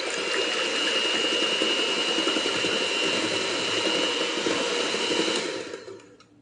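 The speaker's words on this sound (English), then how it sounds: "I'm going to go ahead and mix this a little bit and then we'll add our cake mix" An electric mixer whirs steadily through German chocolate earthquake cake batter, a loud, continuous motor drone that holds for several seconds before winding down and cutting off.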